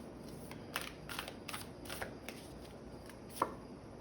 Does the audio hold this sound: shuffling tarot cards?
yes